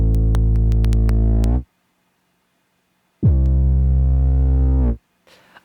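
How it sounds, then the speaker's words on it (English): Sustained bass guitar notes in a music mix, demonstrating how the bass sits centered in a song: a long, loud, low-pitched tone, a pause, then another held note, with a faint noisy burst at the end. "If we come down to the bass"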